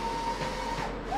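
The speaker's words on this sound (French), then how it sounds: "là, elle va nous imprimer 2 protections de châssis pour Eric" A seven-colour printer prints chassis protections, giving a steady mechanical whir with a faint thin tone running throughout.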